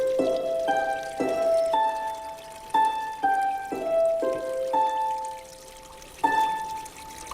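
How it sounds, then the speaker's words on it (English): A water harp driven by flowing water rings out a slow sequence of clear, sustained plucked tones, each note decaying gently into the next in a calm melodic line. "We present the water harp."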